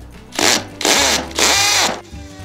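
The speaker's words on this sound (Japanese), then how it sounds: "工具はですね、やはりコンクリートに穴を開けるということで、" A vibration hammer drill bores a pilot hole into concrete, ready for a steel angle fastened with concrete screws. It sounds as three short, loud bursts of whining, rattling drilling close by, separated by brief pauses.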